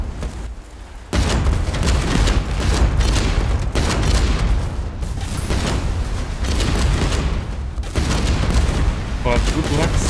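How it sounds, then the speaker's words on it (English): Age of Water battle with Molotov throwers and base guns firing, a loud continuous barrage of booms and gunfire that starts abruptly after a quieter second, dense and sustained, with a voice talking over it. "I think most of the damage is done by the Molotov throwers and of course the base guns."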